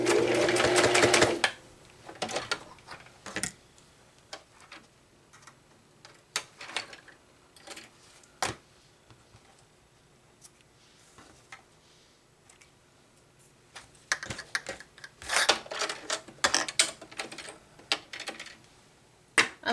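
A sewing machine stitches a cross stitch pillow in loud rapid bursts at the start and near the end, with quieter ticking and intermittent clicks and pauses in between.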